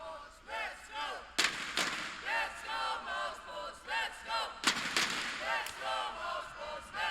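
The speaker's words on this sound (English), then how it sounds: "Here come the flashbangs," Flashbang grenades bursting during a professional CS:GO match on the Train map, two sharp loud blasts amid a dense wash of rapid gunfire and game effects.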